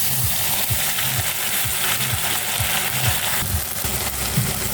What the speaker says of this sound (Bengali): এখানে মিক্সিতে করা মশলাগুলো আমি ঢেলে দেবো